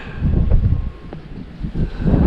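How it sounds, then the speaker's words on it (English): Gusty wind on Favignana Island off western Sicily buffets the microphone with low rumbling surges that rise and fall, loud and close, with no voices. "Very windy"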